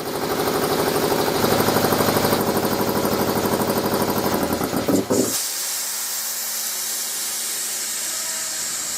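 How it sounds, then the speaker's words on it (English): A twin-cylinder shop air compressor that holds about 150 psi chugs loudly with a rapid, engine-like pulsing and hiss, then shuts off abruptly around five seconds, leaving only faint room noise. "If you think the compressor looks like a big engine, you're right."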